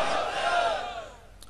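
A conference crowd roars out the Nara-e-Takbeer slogan in one loud collective shout that swells, then fades quickly, leaving a faint echo.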